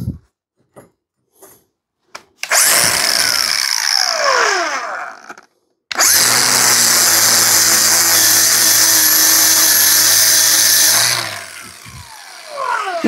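A power wire brush scours a fresh MIG weld in two long, loud bursts of harsh whirring and grinding separated by a brief pause, with short spin-up and spin-down whines at the edges and a few faint knocks at the start.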